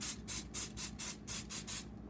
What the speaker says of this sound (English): I'm gonna just grease them lightly with some cooking spray.